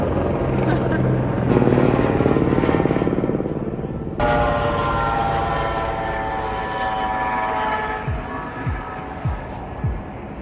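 A helicopter passing over the Las Vegas Strip during the F1 event, a loud sustained rotor and engine drone over busy street noise, with people talking nearby.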